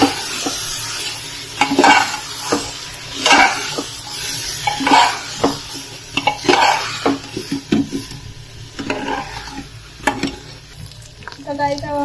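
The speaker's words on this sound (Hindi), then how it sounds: "अब हम अपने चावल हैं ये इसी में ऐड कर देंगे और इन्हें अच्छे से मिक्स कर देंगे।" Rice being stirred into sizzling, fried masala for vegetable biryani, with repeated scraping strokes of a spoon against the pan over a steady frying sizzle, close and fairly loud.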